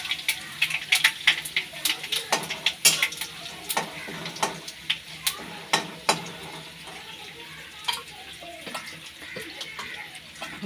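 Cumin is added to hot mustard oil in a kadai with dried red chilies and bay leaves, producing a bright, crackling sizzle of rapid spits and pops that keeps up steadily throughout.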